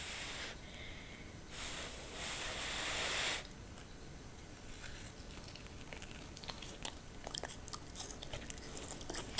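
Cinnamon apples cooked in an air fryer being chewed close up: soft, wet chewing and smacking with a few sharp mouth clicks after a long breathy blow, no talking.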